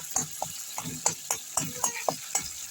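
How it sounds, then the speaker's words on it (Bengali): Ginger, cumin and tomato fry in a pan for a vegetarian pointed gourd and potato curry, with rhythmic scraping strokes of a spatula over a quiet sizzle. "এই যে আদা জিরে টমেটম দিয়ে ভাজছি"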